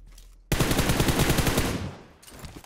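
Rapid automatic gunfire in the battle royale game PUBG, a dense burst of shots lasting about a second and a half, loud and close, tapering off with faint shots afterward.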